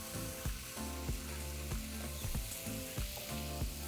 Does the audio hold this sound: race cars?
no